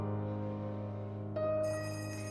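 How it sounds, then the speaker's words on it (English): An old telephone rings in an indie video game, a steady electronic ringing tone that shifts pitch partway through and grows brighter toward the end, heard alone and fairly faint. "your phone suddenly starts to ring"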